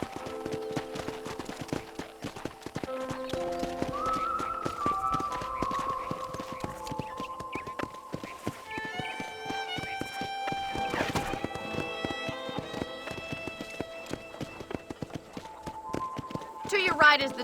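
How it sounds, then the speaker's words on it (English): Steady clip-clop of a ridden horse's hooves in the Western game Red Dead Redemption, rhythmic footfalls running throughout beneath a layered musical score, moderately loud and close. "let's see if you can still ride a horse"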